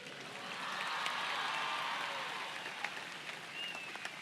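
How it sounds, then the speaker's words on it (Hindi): A college event audience at a motivational speech in Maharashtra applauding, a soft wash of clapping that swells and then tapers, heard from a distance. "तालियां ऐसी बजनी चाहिए, मुझे पता चलना चाहिए कि मैं महाराष्ट्र में हूं।"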